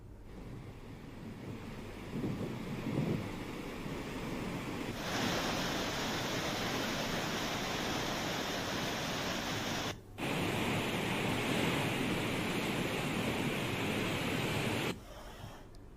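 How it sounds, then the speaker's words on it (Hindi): Water roars through the opened gates of the Rajghat dam at Chanderi after heavy rain, a loud, continuous broadband rushing that swells after a few seconds and holds steady, with a brief break midway and no talk. "भारी बारिश से चंदेरी में राजघाट बांध हुआ लबालब। बांध के 18 में से खोले गए 16 गेट।"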